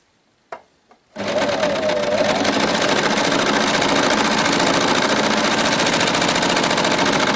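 An overlocker stitches the inseam of children's leggings up to the crotch seam: after a couple of soft clicks it starts up and runs steadily at high speed, a loud, even mechanical whir with a rapid rhythmic chatter.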